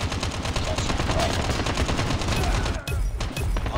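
Rapid automatic gunfire from a favorite weapon in the Call of Duty Mobile video game, a dense continuous burst of shots running nearly four seconds with only a brief gap near the end.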